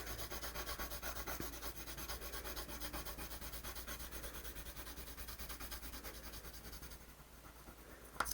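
A pencil colors in a drawn landscape on paper, a continuous close scratchy rubbing in quick repetitive strokes that fades slightly near the end, with no talking.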